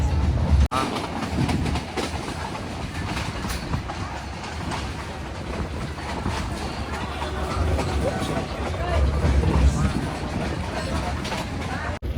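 A passenger train rolls along the line toward Sasan Gir railway station, its steady rumble and rhythmic wheel clatter filling the carriage while people talk over it.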